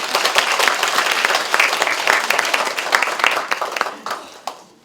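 An audience at a Korean book launch event claps steadily, a dense wash of many hands that stays strong and then thins out toward the end, with no talking over it.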